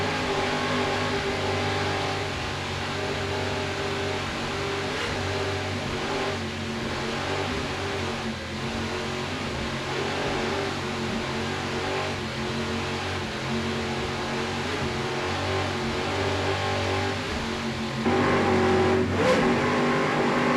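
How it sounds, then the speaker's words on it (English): Powerful racing powerboat engines roar continuously and loudly at a race start, a dense, sustained drone that swells slightly toward the end. "Great start for this boat and the rest of the competitors as well."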